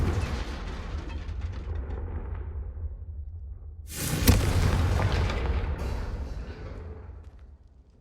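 A Confringo fire spell explodes in the Hogwarts Legacy video game: a loud, sudden blast after a low rumbling build-up, followed by a few seconds of roaring debris that fades out.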